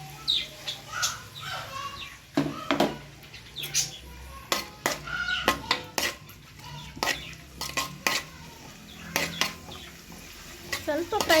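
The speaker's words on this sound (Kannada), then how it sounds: "ಇದನ್ನು ನಾವು ಎಣ್ಣೆಯಲ್ಲಿ ಫ್ರೈ ಮಾಡುವ" Onion, tomato, ginger and green chilli frying in oil for a Mangalorean mackerel curry, with repeated sharp clatters of a utensil stirring in the pan over a light sizzle.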